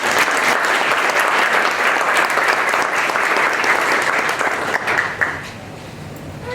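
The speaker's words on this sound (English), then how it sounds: "Let's have a round of applause for our various partners." A large audience at a community foundation's fall grant celebration applauds its partners, the loud, dense clapping sustained for about five seconds before quickly thinning and fading away.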